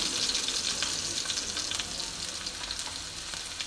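Egg, spinach and chicken ingredients sizzle steadily as they fry in a pan, a dense, continuous crackle close up with no voices.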